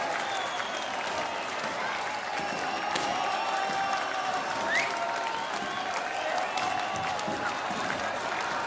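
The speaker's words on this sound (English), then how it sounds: "Listen to the crowd, listen to them." A large live concert crowd at a show applauding and cheering steadily, dense and distant-sounding with occasional whistles, a voice talking faintly over it.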